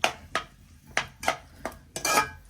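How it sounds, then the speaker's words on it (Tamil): A spoon stirs and mixes spiced ingredients with salt in a metal cooking pot, giving about six quick, close scraping clinks in an uneven rhythm. "ஸோ எல்லாமே மிக்ஸ் பண்ணணும்."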